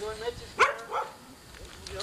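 A dog gives a couple of short barks and yips amid people talking in a home, the bark brief and moderately close.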